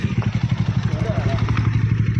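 A motorcycle engine chugs steadily up close on a rough rural road near the India–Bangladesh border, its low exhaust pulses beating in a fast, even rhythm with some rattling clatter.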